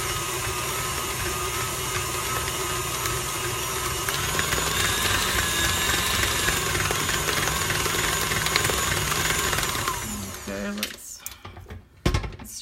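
A steady electric mixer whirs through buttercream frosting in a bowl, a continuous motor drone that runs for about ten seconds before cutting off, followed by a few clatters of the beater and bowl.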